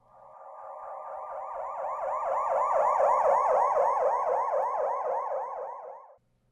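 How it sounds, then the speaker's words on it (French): A siren sweeps past continuously for about six seconds, its wailing tone rising in pitch as it approaches and then dropping as it moves away, swelling to its loudest in the middle and cutting off abruptly, with no voices. "le son d'une sirène qui devient plus aigu quand l'objet s'approche et qui retombe vers les sons graves quand l'objet s'éloigne"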